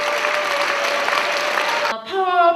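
An audience at a pastors' wives event gives a big round of steady, dense applause to welcome a woman professor, continuing for about two seconds before it cuts off into music.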